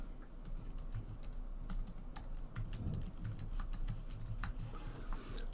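Typing on a computer keyboard, quiet irregular keystroke clicks in a steady stream with a low background hum, no voices.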